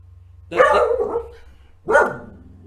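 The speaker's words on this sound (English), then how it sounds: "I think she heard me say dog and thought there was something outside." A dog barks indoors, two sharp nearby barks about a second and a half apart, loud against a quiet room.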